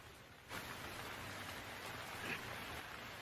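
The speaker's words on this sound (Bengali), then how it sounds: "বুঝতেই তো পাচ্ছেন আজ বৃষ্টির দিন।" Rain falling on a rainy day in a Bengali cartoon, a soft steady hiss of rainfall that swells in after a brief quiet start and continues evenly, faint, with no talking.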